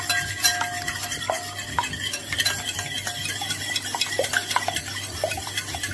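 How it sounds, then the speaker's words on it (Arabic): Eggs and vanilla being whisked briskly in a bowl for a layered cake, with quick close clinks and taps of the whisk against the bowl over a soft wet churning, no talking. "اول حاجه بنزل بالبيض والفانيليا وابتدي اقلب كويس قوي"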